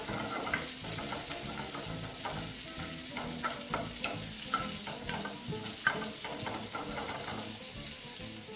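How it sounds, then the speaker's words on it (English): Onions and sausages frying in a one-pot Spanish rice and prawn dish, stirred with a spoon in a steady loud sizzle, with occasional soft clinks of the utensil against the pot. "all you need to do at this stage is just mix everything together"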